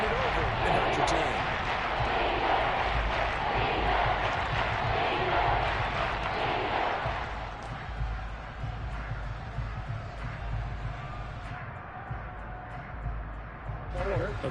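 Simulated stadium crowd at a Seahawks home game in Madden 23 makes a continuous roar that is loud at first, then eases to a lower murmur, with commentary talking over it.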